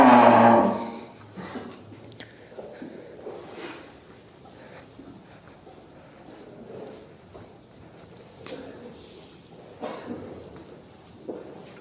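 Limousin and Simmental cattle calves moo and low at a farm, with a loud close call at the start followed by quieter, scattered animal sounds and rustling.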